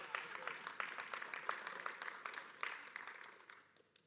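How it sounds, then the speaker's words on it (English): Applause from a church congregation, many hands clapping steadily at a distance, rather faint, tapering off toward the end. "That's worth a clap."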